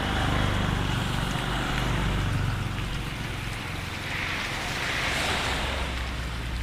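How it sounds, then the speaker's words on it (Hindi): A monsoon waterfall near Rishikesh roars with constant, dense rushing water, loud and close, with some wind buffeting and no talking. "ये है वो झरना।"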